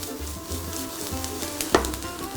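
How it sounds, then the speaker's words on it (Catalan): Onion and zucchini fry in a pan with a steady, close sizzle and crackle, and a brief clink of a utensil partway through. "Mentre s'acaba de fregir la cebeta i el carbassí"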